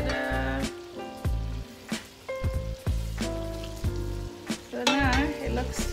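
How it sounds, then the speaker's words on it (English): A Nigerian tomato stew sizzles in a pot as it is stirred, a steady frying hiss running under loud, prominent background music for the whole stretch. "I'm just stirring it together."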